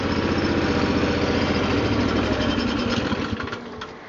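A 1998 Terramite T5C backhoe engine idles close by, a steady loud mechanical drone with an even low throb that carries on without a break and eases off slightly near the end.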